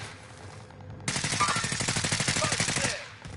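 Rapid automatic gunfire in a video game shootout, a loud sustained burst of evenly spaced shots lasting a couple of seconds after a quieter lead-in.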